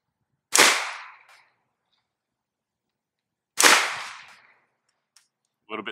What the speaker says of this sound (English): So up next, we're going to put some Wilson Combat 147 grain ammo through it.